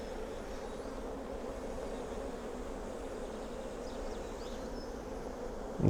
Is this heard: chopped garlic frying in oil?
no